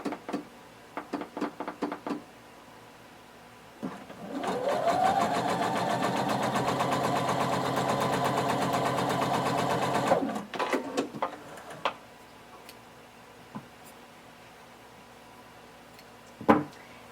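A sewing machine stitches the facing of a pair of pants, a steady whirring run of about six seconds, preceded and followed by scattered clicks and handling knocks of fabric being positioned.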